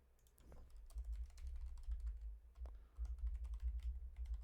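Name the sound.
typing on a computer keyboard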